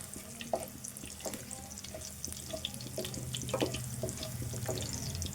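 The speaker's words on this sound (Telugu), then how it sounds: "ఈ మసాలాలు ఇవన్నీ వేగాలి కొద్దిసేపు. ఈ ఎల్లుల్లి కూడా వేగాలి." Spices and garlic fry in a pan for a spicy chicken masala curry, giving a steady close sizzle and crackle with occasional spoon clatters that grows slightly louder toward the end.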